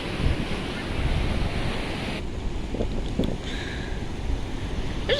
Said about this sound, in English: the waves look pretty nice today